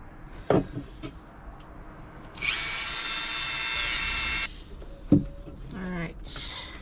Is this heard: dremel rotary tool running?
yes